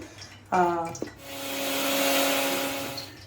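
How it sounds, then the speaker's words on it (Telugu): A mixer grinder grinding a curry leaf spice paste whirs up after a brief clatter, holding a steady humming drone for a couple of seconds before easing off. "ఇప్పుడైతే ఇది మెత్తగా మిక్సీ పట్టేసుకోవాలి"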